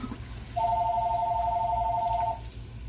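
A phone rings in a home kitchen, one steady electronic two-tone warble lasting about two seconds over a low background hum, with faint water sounds from cooking.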